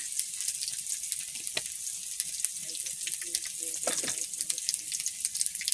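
Garlic and cumin seeds sizzle in hot oil as a tempering, a bright continuous crackling hiss close by, broken by a few faint knocks of utensils.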